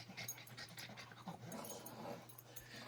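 A dog panting hard and growling softly during rough play, close up, with quick rhythmic breaths and low rumbles throughout.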